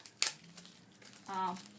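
Brown craft paper crinkling as materials are unwrapped from their packaging for a home DIY sign project, a sharp rustle near the start and another longer crinkle near the end, with faint background sounds between.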